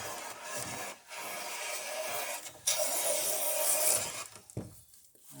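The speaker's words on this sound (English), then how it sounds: "Let the sandpaper do its work otherwise." Sandpaper rubs back and forth along a wooden boat spar being rounded, close rasping strokes with short pauses between passes.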